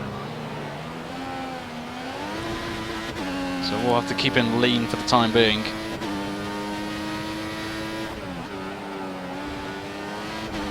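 F1 race car engine in the F1 2014 video game at the Russian Grand Prix, a high whining drone climbing through gears with shift drops and a burst of revving, a voice talking over it.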